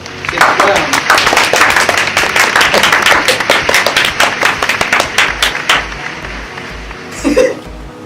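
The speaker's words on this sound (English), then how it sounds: "Let's clap for them" An audience at a show claps for guests, a crisp burst of many individual hand claps that thins out after about six seconds, followed by a short vocal sound and low rhythmic thumps.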